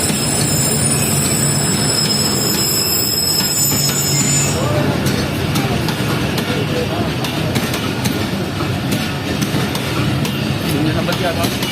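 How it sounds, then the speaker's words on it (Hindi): 12 Down Hazara Express train hauled by a GU40 locomotive passing close by, with a loud continuous rumble, screeching wheel squeal early on, and rhythmic clatter of the cars going past. "तो ये 12 डाउन हज़ारा एक्सप्रेस GU40 के साथ"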